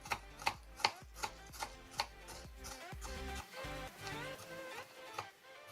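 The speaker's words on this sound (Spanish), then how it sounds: "Cortamos la cebolla en trozos" A knife chops onion finely on a board, a run of sharp, evenly spaced taps at close range that give way to softer, irregular cutting sounds.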